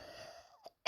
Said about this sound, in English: my toddler is around, just coughing, not feeling well